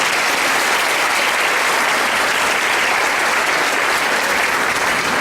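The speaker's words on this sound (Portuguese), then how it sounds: "Vamos aplaudir a palavra da salvação." A church congregation applauding, a dense, loud, sustained wash of many hands clapping together that stays even throughout.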